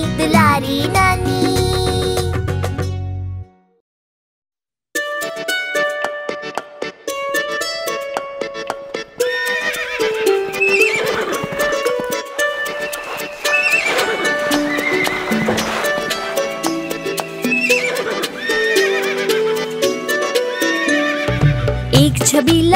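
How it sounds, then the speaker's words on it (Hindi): Cartoon horse sounds, with a lively neigh and whinny and repeated clip-clopping hooves over a bright children's song backing, broken by a brief silence early on before the music and hoof beats resume. "एक छबीला घोड़ा था"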